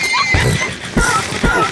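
A Minecraft horse gives several short, loud whinnies in quick succession, close up and clearly in front.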